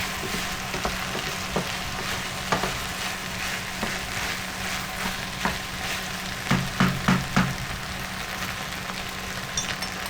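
Cottage pie filling of mince with beef seasoning sizzles steadily in a hot pan while a spoon stirs it, a constant close frying hiss broken by several sharp scraping knocks of the spoon against the pan, with no voices.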